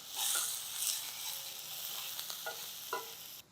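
Onions sizzling steadily in a hot pan for aloo bonda, a continuous bright frying hiss with a few soft stirring clicks and scrapes, close and fairly quiet, with no talk.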